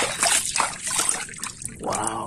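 Water poured and splashed over toy trucks, including a long tronton truck, a cement mixer truck and a fire engine, during washing. It makes a steady close trickling and sloshing that runs throughout.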